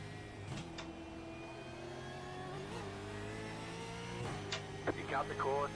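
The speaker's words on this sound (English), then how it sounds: "Oh, car coming. Move over." A race car engine approaches on an Adelaide street circuit in a racing game, a steady rising whine over a continuous engine drone, with a voice chattering briefly near the end.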